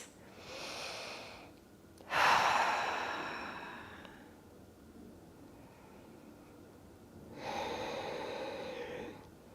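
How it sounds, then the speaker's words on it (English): Slow, deep breaths during a guided yoga-style movement session: a soft inhale, then a long, louder exhale that tapers away, and another breath near the end, close and unaccompanied. "Let's just breathe together really quick, right?"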